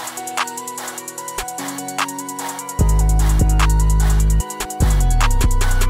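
Emo plugg beat whose 808 bass is held back and enters late before the drop: layered synth melody and hi-hats play alone at first, then deep, loud 808s kick in near the three-second mark, briefly cut out and return for the drop.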